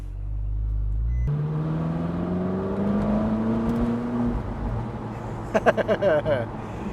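A Ferrari 458 Spider's engine revs up with a rising, whining tone, then settles into a smooth hum, followed near the end by a quick series of sharp pops, with the car heard close.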